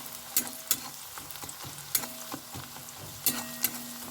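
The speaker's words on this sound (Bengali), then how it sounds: "তেলের মধ্যে আর ওই বাটারের মধ্যে আমি পেঁয়াজের যেগুলো কষা হয়ে গেছে" Onions fry in butter and oil for a chicken dish: a steady close sizzle with sharp scraping and clacking stirring strokes that come in irregular bursts.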